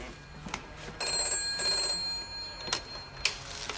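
An old-style telephone bell rings in bursts on a 1970s British police drama set, clear and fairly close, with brief clicks and knocks around the rings.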